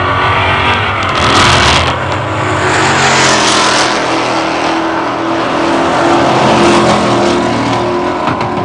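Muscle-car drag race between a green and black Malibu and an '89 Mustang on a drag strip, loud engines roaring and revving continuously, heard close and strong throughout.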